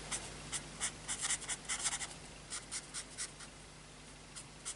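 Spectrum Noir Tri-colour alcohol markers scratch across paper in short, soft strokes, a quiet irregular series of scrapes with small pauses between bursts.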